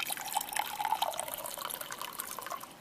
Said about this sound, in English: you're going to take your water and you're going to fill up your cups